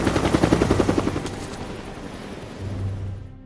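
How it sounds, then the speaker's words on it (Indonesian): A helicopter lifts off in an action film scene, its rotor chopping in quick rhythmic pulses for the first second before blurring into a loud, dense roar with a low engine drone. "Saat setelah helikopter tersebut lepas landas"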